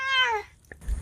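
A cat gives one loud, drawn-out meow, then a short silence, a faint blip, and a rough burst that may be a hiss; the cat is alone and close.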